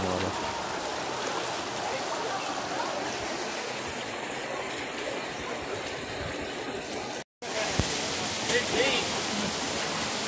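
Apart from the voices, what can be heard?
running water stream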